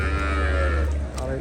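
At the Kuti Chowmohoni cattle market in Brahmanbaria, a cow or buffalo lets out a single loud, close, drawn-out low moo over a murmur of market voices.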